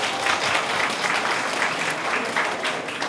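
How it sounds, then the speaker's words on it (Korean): A room of students at an academy study-method briefing claps together, a full and sustained round of applause, fairly loud and even throughout without speech. "다 같이 박수 한번 칠까요?"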